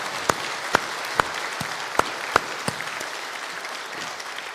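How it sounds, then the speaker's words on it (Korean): A church congregation applauding to welcome newcomers, with sparse, distinct claps in a loose rhythm that are fairly soft and spread across a large room, tapering off toward the end. "우리 이분들을 사랑하는 마음으로 환영하며 박수를 보내주십니다"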